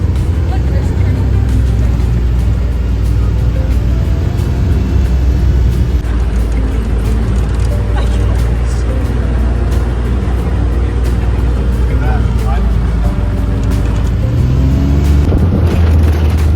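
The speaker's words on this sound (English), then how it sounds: "We're off-roading now." An ATV bouncing along an off-road track on a Kualoa Ranch tour in Hawaii, heard as a loud, unbroken engine roar mixed with heavy wind rumble. Voices come through faintly beneath the noise.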